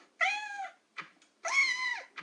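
A cat meows twice in the Toca Life video game, two clear, fairly close calls with short soft sounds between them and no talking.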